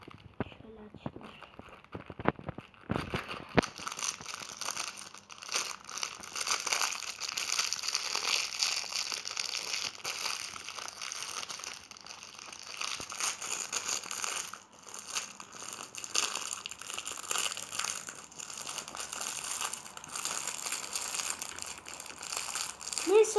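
Crinkling of a chocolate or candy wrapper being torn open, a steady dense rustle and crackle lasting throughout, close and fairly loud, with a voice and other talk faintly underneath.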